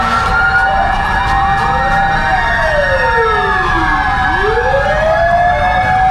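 Fire truck sirens wail at a third-alarm fire in a Philippine neighborhood, several loud overlapping sweeping tones rising and falling continuously over a steady rumble of engines, with no talking.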